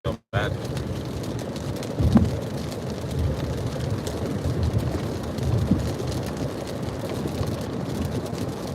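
Steady rain patters outdoors as a continuous, moderately close hiss with a few louder gusts, heard on its own after a brief cut at the start.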